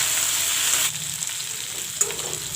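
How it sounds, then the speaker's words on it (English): Flat beans (sheem) and potato fry in hot oil in a pan for a chatpata sabji, giving a loud, steady sizzle that drops a little partway through, with a few faint stirring scrapes. "I will half fry the seam and the potato"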